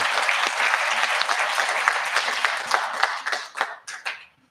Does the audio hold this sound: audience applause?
yes